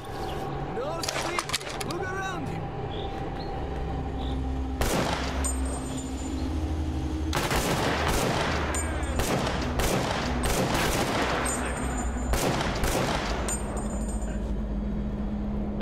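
Automatic gunfire in the video game Stalker Clear Sky with Last Fallout Overhaul, sharp bursts and quick rattling volleys spread across the stretch, mixed with game ambience and someone talking over it.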